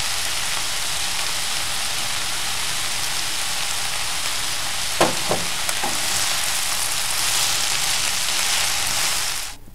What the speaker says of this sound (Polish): Pokrojoną cebulę podsmażę na patelni, tak żeby się wyszkliła.